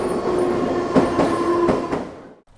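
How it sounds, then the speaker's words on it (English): An evening commuter train passes with a steady rumble, rhythmic wheel clacks and a faint squeal that fade out at the end, with no talk. "There goes the evening commute train."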